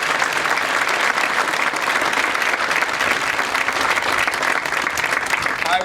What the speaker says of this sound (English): I ask now for a round of applause for them